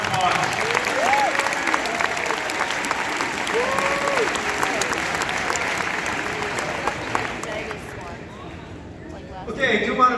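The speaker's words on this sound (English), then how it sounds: "Let's give him a round of applause." Audience applause for a Hall of Fame cross country coach at a state send-off, sustained dense clapping with crowd murmur and a few cheers, steady for about eight seconds before tapering off.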